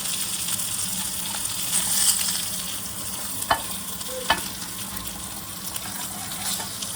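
Rava-coated fish frying in oil in a pan, a steady crackling sizzle running throughout with a couple of sharp clinks of a utensil against the pan, close and unaccompanied by speech.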